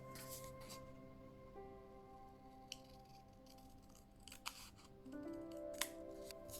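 Scissors cut a piece of paper in half with a few faint, quiet snips against a soft background hum.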